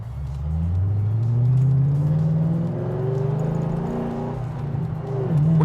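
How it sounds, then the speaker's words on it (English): A 2007 Ford Mustang Shelby GT500 pulls hard in second gear, its engine note rising steadily in a loud, continuous run from near, with a deep rumble throughout. "I'm going to go and do a second gear roll towards our warehouse, and you guys will be able to see the power that this thing can lay out."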